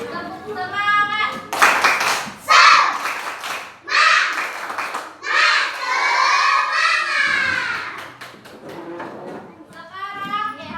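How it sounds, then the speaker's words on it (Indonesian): A primary school class performs a 'tepuk semangat' spirit clapping chant, with loud rhythmic bursts of clapping and children shouting the chant together in chorus at close range. "Kita tepuk semangat yuk."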